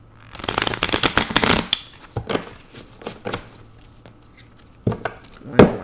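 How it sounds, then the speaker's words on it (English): An Aquarian tarot deck is shuffled by hand, a burst of rapid riffling card flutters followed by scattered softer taps and a final sharp card snap, close and alone. "One more shuffle here."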